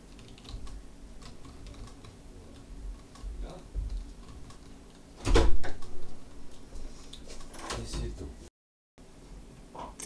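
Quick, close clicks of typing on a computer keyboard come in uneven runs, with a louder thump near the middle and a low background murmur.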